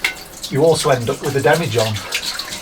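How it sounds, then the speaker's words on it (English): Water pours from a 5-litre bottle into a pot, a splashing, gurgling stream heard beneath someone talking throughout. "Let me just transfer the water."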